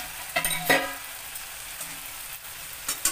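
A spoon stirs a Bengali-style potato and eggplant curry with gima greens in a pan. A few distinct scraping strokes cut through a soft, low cooking hiss.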